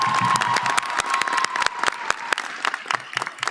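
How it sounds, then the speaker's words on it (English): A graduation audience at a girls' leadership academy claps and cheers in a hall. The applause is loud and dense, fading slightly toward the end. "Let's give these young ladies a round of applause."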